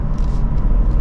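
A 2024 Lexus IS 350 F Sport engine accelerates in Eco mode, a loud, steady low rumble heard close from inside the car, with no talking.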